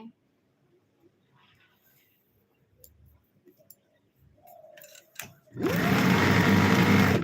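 A sewing machine starts up and stitches loudly and continuously in the last seconds, following quiet rustling and a few faint handling sounds.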